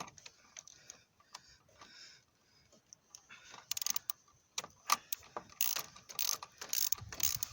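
A bolt on the engine mount of a Renault Laguna 3 coupé 2.0 dCi is screwed in with a ratchet, giving soft, close mechanical clicks that grow into sharper, louder bursts of ratcheting. No voices are heard.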